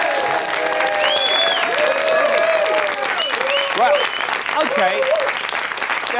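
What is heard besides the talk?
studio audience applause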